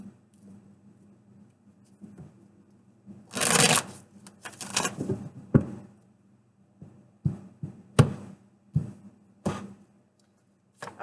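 Tarot cards get shuffled close up in quiet bursts: a riffle-like flurry around the middle, then scattered soft taps and slaps of cards being squared and handled, with a faint hum underneath.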